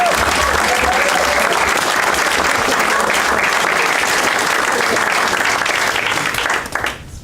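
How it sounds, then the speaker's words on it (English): An audience claps and cheers for Ben Cohen at a presidential campaign event in Claremont, New Hampshire. The applause is loud and sustained for about seven seconds, then stops abruptly at the end. "Please, another round of applause for Ben."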